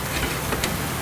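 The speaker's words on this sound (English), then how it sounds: "They're sizzling." Turkey burgers sizzle on a Weber charcoal kettle grill, giving a steady, close crackling hiss with a few brighter pops and no talking.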